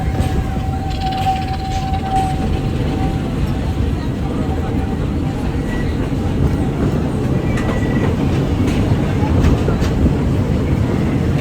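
A Walt Disney World Railroad steam-era train rolls steadily along, a continuous low rumble with rattling wheels and faint clickety-clack, plus a brief whistle-like tone early on.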